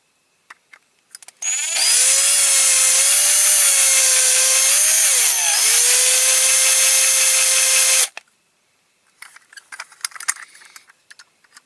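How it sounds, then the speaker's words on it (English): A small power drill whines loudly and steadily for about six seconds, close up, drilling a die-cast toy truck with a small bit, its pitch dipping briefly midway, followed by light handling clatter. "I'll start off with a small drill bit"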